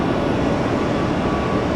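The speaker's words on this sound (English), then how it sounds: "This Airbus A321 blast-off machine" Airbus A321 jet taking off from Tampa International Airport, a steady, loud broadband engine roar that holds constant throughout with no talk.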